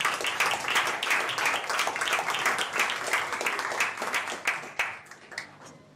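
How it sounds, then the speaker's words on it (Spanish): Audience applause at a youth event in Extremadura, dense and sustained clapping from a crowd that thins and tapers off toward the end. "os pido un fuerte aplauso para él"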